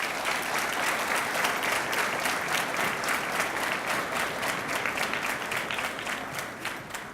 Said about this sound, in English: would you like to offer them a round of applause?